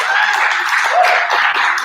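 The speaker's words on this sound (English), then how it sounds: "let's give a big round of applause for our ring announcer" Applause for a ring announcer at a promotions hall of fame dinner, a dense, steady patter of many hands clapping close by for about two seconds.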